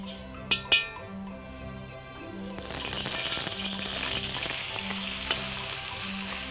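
Ground beef and pork hit hot oil in a preheated wok with a couple of sharp metallic clinks, then burst into a loud, steady close-up sizzle with occasional stirring rattles.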